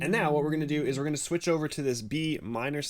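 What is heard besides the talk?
No distinct noise like a dog, phone or traffic.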